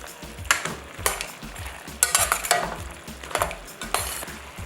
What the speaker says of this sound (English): The chicken's now been cooking for about 30 minutes. Give it a stir.